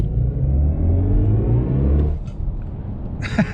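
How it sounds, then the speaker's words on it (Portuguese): BMW i5 M60 electric sedan accelerating with its engine sound emulator, a steady synthetic rumble rising in pitch for about two seconds, then cutting off into quieter road noise with a faint click near the end. "a gente vai dar uma acelerada com o emulador de som"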